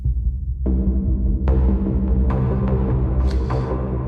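Deep bass tone from a Korg Wavestate synthesizer with a heavy, throbbing low end, joined by a few sharper synth hits as it plays on, loud and upfront.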